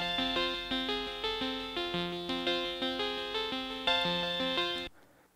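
Korg Minilogue synthesizer preset playing a repeating riff of bright, sustained polyphonic notes in a steady stepping pattern, loud and close with no talking, cutting off abruptly near the end.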